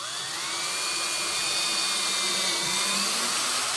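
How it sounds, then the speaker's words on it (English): Small power drill fitted with a 1/16 inch bit pre-drilling a pilot hole in wood, a steady high whine held throughout, close and fairly loud. "So this is a 1/16 inch bit, and I'm just pre-drilling this"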